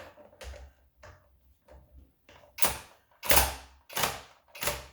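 A Horm electric ratchet, a Makita replica, tightening a bolt: soft whirring bursts at first, then four louder buzzing runs of the motor and clicking mechanism, each under a second, close by with no talk.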